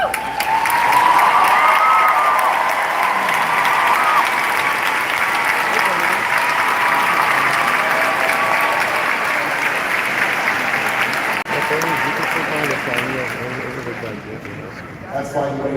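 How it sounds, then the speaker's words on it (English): A large graduation audience at a 2024 high school ceremony applauds its first-generation graduates, with sustained dense clapping and crowd noise filling the hall before it thins slightly near the end. "please stand so we may applaud your achievement"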